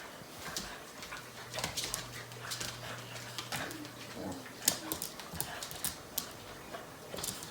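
Dogs playing outside in falling snow, with scattered soft thumps, panting and a few whimpers at a moderate distance, irregular and fairly faint against a quiet outdoor background.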